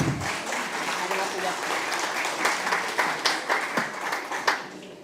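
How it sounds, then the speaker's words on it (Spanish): Audience applause greets guests from UNESCO and OEI at an educational leadership event in Ecuador, a steady wash of clapping from a seated crowd with a few sharper claps near the end, voices faintly mixed in. "queremos también recibirles con un fuertísimo aplauso a Nicolás Reyes"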